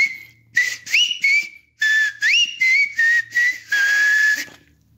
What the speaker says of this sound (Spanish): Luego de ello dio un silbido, pero un silbido muy especial.